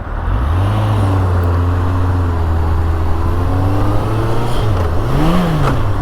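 A Yamaha XJR1300 motorcycle engine drones steadily at a constant pitch while riding through traffic, then rises and dips in a brief rev as a missed gear drops it into false neutral, with wind noise throughout.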